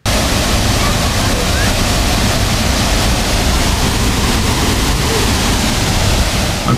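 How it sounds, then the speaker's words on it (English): Hue Suat Waterfall in Khao Yai National Park, Thailand, pours with a loud, continuous roar that stays steady from start to finish without a break. "The next stop on our tour was Hue Suat Waterfall"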